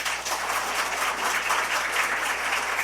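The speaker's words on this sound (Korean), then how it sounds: "다시 한번 수상자님 큰 박수로 축하해 주십시오" Steady, dense audience applause fills a Korean scholarship and good-deed award ceremony hall, a continuous even wash of clapping at moderate loudness with no pauses.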